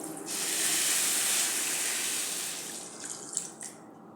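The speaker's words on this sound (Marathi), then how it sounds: "आता त्याच कपने एक कप पाणी घालायचं" A steady stream of water pours into sugar in a pan for a few seconds, hissing evenly, then tapers off into a few small splashes and drips.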